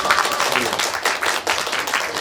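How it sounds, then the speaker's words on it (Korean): Applause from a cinema audience at a post-screening guest talk for the film Green Night, steady dense clapping filling the room, fairly close and loud. "다시 한번 오늘의 주인공에게 박수 부탁드립니다"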